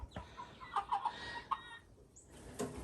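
Bielefelder chickens in a coop give several soft, separate clucks and a short squawk, faint and close by, with light rustling between the calls.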